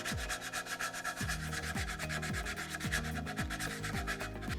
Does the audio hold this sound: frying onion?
no